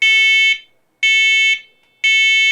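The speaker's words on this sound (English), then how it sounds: "I've got all 6 wireless alarms installed. Now the final thing I have to do is conduct a test" A wireless smoke alarm sounds during a basement test, giving loud piercing electronic beeps in a steady pattern of three half-second tones, each followed by a half-second of silence.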